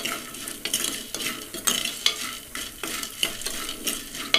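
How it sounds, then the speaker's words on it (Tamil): Dried turkey berries (sundakkai vathal) fry in a pan for a Tirunelveli-style kuzhambu, with a spoon stirring and scraping in a quick, regular rhythm over a soft sizzle, close and clear with no talking. "நம்ம வறுத்துட்ருக்க இந்த சுண்டவத்தல் வந்து கருகிடக்கூடாது"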